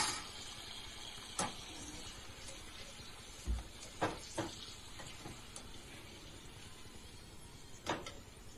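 Amla (Indian gooseberries) frying in a wide pan, giving a steady low sizzle broken by a few sharp clinks and stirring scrapes of a spoon against the metal.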